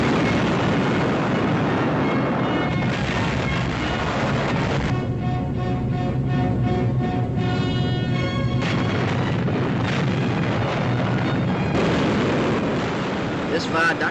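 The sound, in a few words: 22,000-pound bomb exploding on railway viaduct in wartime newsreel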